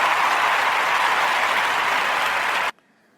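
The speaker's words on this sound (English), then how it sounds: "Gotta have the applause" Canned applause sound effect played on a trading forecast podcast, a steady dense wash of clapping that runs loud and even for under three seconds, then cuts off abruptly into near silence.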